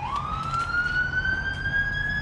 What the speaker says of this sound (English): And a siren. And the sirens.